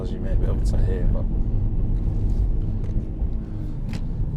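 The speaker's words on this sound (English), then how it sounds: "This is quite a bumpy, potholey road, as you may be able to hear" Low rumbling road noise with irregular thumps and knocks as a MINI Clubman JCW rolls over rough, potholed pavement on tight roads, with someone talking over it.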